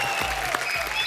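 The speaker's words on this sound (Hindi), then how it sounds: "एक बार जोरदार तालियां" Studio audience applause on a Hindi TV comedy show: a short, loud burst of dense clapping that fills the whole second with no pause.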